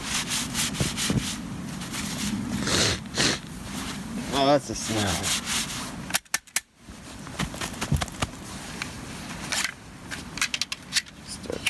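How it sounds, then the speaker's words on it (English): Steady rhythmic sawing of wood from a snowy woodpile outdoors during a blizzard, the rasping strokes loud and continuous with a brief pause midway, and someone speaks briefly over it. "Sawing away."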